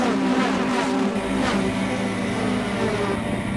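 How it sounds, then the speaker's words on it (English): Tightly tuned pickup truck racing engines roar together at Rockingham during a British Pick-Up Truck Championship race, a loud, sustained blend of revving from several trucks close by. "Tightly tuned engines really sound the business here around Rockingham."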